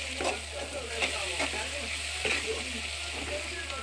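Cabbage curry sizzles softly in a pan while a spoon stirs it, scraping in a few quick strokes over a steady low fry, faint and close.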